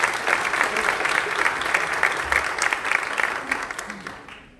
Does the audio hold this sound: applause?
yes